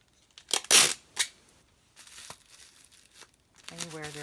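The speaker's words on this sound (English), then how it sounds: "I'm going to actually use packing tape to" Packing tape pulled off the roll and torn while sealing a large box for a silicone doll, giving loud crackling rips in short bursts, then quieter crinkling and a brief voice-like tone near the end.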